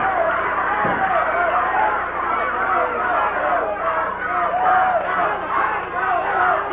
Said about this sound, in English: Crowd cheering for Dutch Mantell.